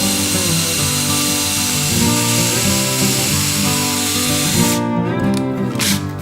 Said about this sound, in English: And I'll pre-drill.